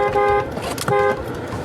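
Car horn sounds in two short honks about half a second apart, loud and near, with no talking over it.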